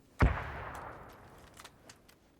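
A single loud gunshot up close, followed by a few fainter distant shots crackling in the background, in the video game PUBG.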